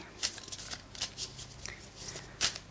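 Moonology oracle cards are riffled and shuffled by hand in quick, papery bursts of close flicks and snaps, with one sharper riffle near the end.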